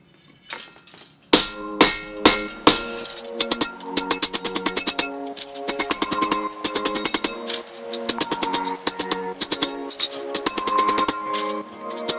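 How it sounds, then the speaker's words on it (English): A heavy rawhide mallet hammers steel Viking helmet parts, starting with a few separate loud blows and then settling into fast, ringing metallic strikes in repeated bursts, close and with no talk. "These rawhide mallets are nice because they're heavy, but they don't mar the face."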